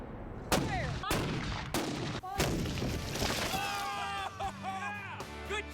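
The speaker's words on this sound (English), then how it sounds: "This is 6 ounces of black powder. That is what we'll be firing in our paired gun." Several loud cannon blasts from a paired gun loaded with six ounces of black powder, sharp booming reports spaced about a second apart and echoing, followed by a ringing whistle-like tone and voices talking near the end.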